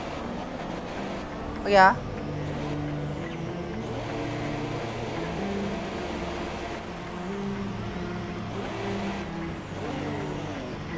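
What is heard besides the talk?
F1 car engine accelerating in video game F1 2017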